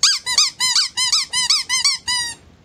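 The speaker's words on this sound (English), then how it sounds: "And the fries go squeak, squeak." A squeaky toy shaped like fries squeaks about nine times in quick, even succession, loud and close, with no voices over it.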